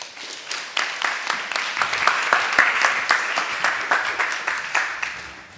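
Sustained applause from an audience at the FameLab 2025 final, a science-talk competition, with dense overlapping claps filling the room steadily, fading slightly at the end.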